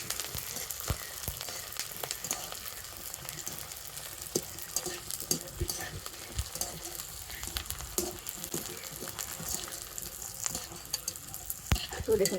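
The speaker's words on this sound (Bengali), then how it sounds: "দেখুন আবারও কিন্তু পপকর্নগুলো সুন্দর করে ভেজে নিয়েছি" Sago popcorn frying in hot oil, a steady crackling sizzle with scattered sharp pops and faint stirring, close and continuous throughout.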